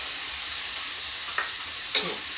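Soaked chana dal frying in a pan: a steady, even sizzling hiss close up, broken by two brief light clinks of a utensil near the end, with no one talking.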